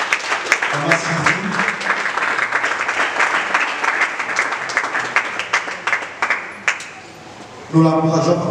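A church congregation applauds during a New Year greetings service, a dense run of close clapping with voices over it and a brief lull near the end.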